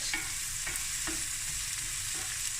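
Curry leaves crackle and sizzle in a pan of oil for smoked snoek fried rice, a steady close frying hiss with a few rhythmic stirring scrapes, no talking.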